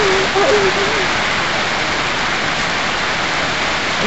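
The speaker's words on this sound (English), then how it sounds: "There's something nice about the rain when it's out there and I'm in here." Steady rain falls just beyond a porch, a dense even hiss filling the whole stretch with a faint tonal whine near the start, no talk over it.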